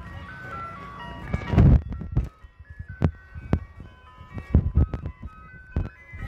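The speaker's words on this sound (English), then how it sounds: "Recording the nice food truck." An ice cream truck plays a tune as a bright, tinkling chime melody. Intermittent thumps and bumps from nearby handling break over the music.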